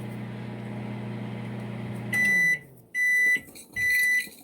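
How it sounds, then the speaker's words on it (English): A microwave oven hums low and steady while melting refrigerated butter, then falls quiet and gives three loud, evenly spaced beeps. "I put the butter in the microwave for 30 seconds"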